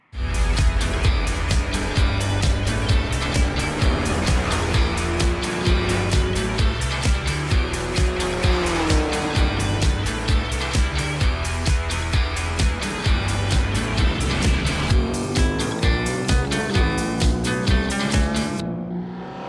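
A Ducati Streetfighter V2 motorcycle runs on a ride at steady, loud, close engine roar, revs rising and falling through gear changes, continuing without talk until cutting off at the end.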